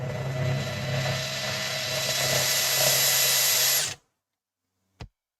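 A power drill runs steadily for about four seconds during a late-night workshop build, loud and close with a rising whine, then stops abruptly, followed by silence and a single sharp click.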